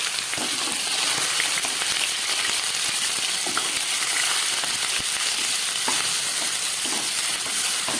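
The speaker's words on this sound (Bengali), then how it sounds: "চিকেনটা ফ্রাই করছি।" Chicken frying and sizzling in a pan, a steady dense crackle with scattered sharper pops, close and fairly loud throughout with no talking.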